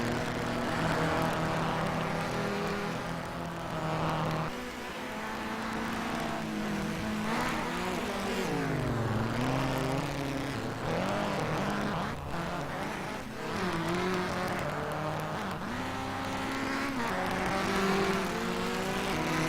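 Rallycross cars race around the track during a NASA RallyCross Challenge event, with engines roaring and revving loudly and continuously, rising and falling as they accelerate and pass, with occasional tire noise.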